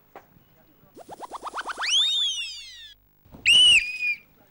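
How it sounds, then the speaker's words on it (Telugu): A whistle blown on a Telugu TV game show: a rapid series of rising chirps swelling into a long sliding shrill tone, then a second sharp, loud blast after a brief pause. "విజిల్ వేయండి"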